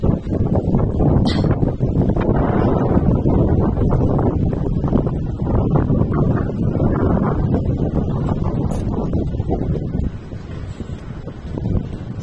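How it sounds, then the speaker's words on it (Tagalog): Strong wind buffets the microphone in a steady, loud low roar that barely lets up for about ten seconds before easing slightly. "ang napakalakas ng hangin dito"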